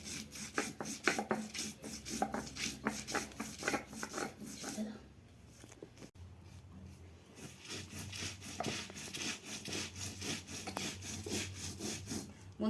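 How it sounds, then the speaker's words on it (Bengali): Seeds are ground into a paste on a grinding stone, giving a steady, rhythmic, rasping rub of back-and-forth strokes, close and continuous with a brief lull midway. "এইভাবে আমি সব দানা কটা বেটে নেব"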